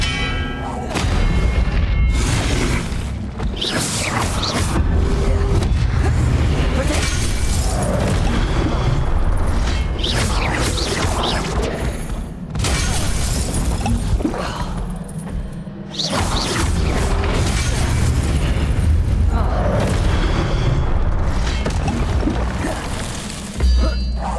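Spell blasts and explosions from Hogwarts Legacy boom and thump one after another during a boss fight, loud and dense with nearly constant rumbling impacts.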